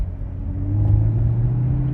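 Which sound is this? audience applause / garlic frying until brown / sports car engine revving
sports car engine revving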